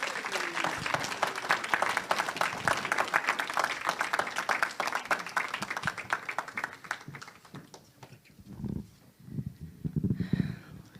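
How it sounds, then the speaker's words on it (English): An audience gives sustained, dense applause to welcome a speaker to a testimony. Clapping stays loud for about seven seconds, then thins into scattered claps and a few murmurs. "let's greet Annastasia with applause."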